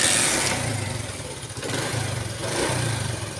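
A Honda CD 70 motorcycle with a misfiring engine starts up and settles into a fast, uneven idle, its chugging pulses close and moderately loud.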